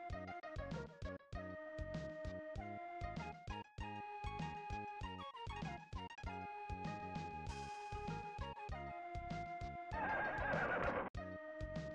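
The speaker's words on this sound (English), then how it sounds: "Horse is back." Horse neighing and hooves in the video game Hana no Keiji, a loud repeated electronic whinny over clip-clop beats and synthesized game music with steady rhythmic chimes, no talk.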